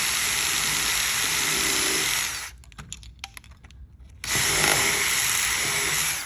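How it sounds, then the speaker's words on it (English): Power drill pre-drilling angled holes through wooden window trim to mount a woven wood shade, two loud sustained whines separated by a short pause with faint clicks. "Pre-drill your holes at that angle."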